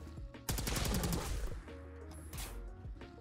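Handmade energy rifle from a Fallout 4 mod firing on full auto: a loud burst of rapid rhythmic shots lasting about a second, then scattered in-game sounds as the firing stops.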